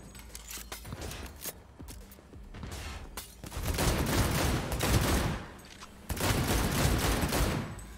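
Gunfire in Cyberpunk 2077, as dense overlapping automatic volleys crackle loudly and close in two sustained waves, with sharper scattered shots in between.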